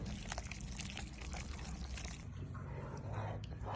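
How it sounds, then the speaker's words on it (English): Fresh pasta noodles tumbling into a pot of salted water, a short burst of splashing and bubbling that settles into a quieter simmer, close and loud, with no voices. "Pasta into salted water."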